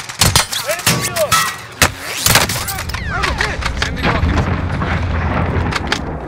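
Rocket explosions in a video game: sharp booming blasts and thuds burst out early, then give way to a rumbling crackling aftermath, with players talking over the action.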